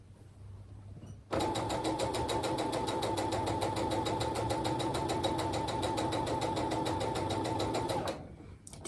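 A sewing machine stitches fabric in one steady, fast, even run lasting several seconds, close and loud, starting abruptly and winding down at the end, with no talk over it.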